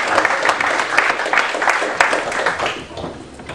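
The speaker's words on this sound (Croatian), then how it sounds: "Molim da se još jedan aplauz za čovjeka" An audience at a film premiere in Split applauds guest Branko Radaković, director of Limunovo drvo. The clapping is full and sustained from many hands throughout, and it thins slightly toward the end.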